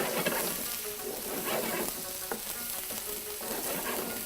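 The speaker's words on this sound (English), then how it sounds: "it's sautéed onions, brown onions, ginger garlic paste, and tomatoes" Onions, ginger garlic paste and tomatoes with salt sauté in a pan with a dense, steady sizzle and soft stirring scrapes, close and even throughout.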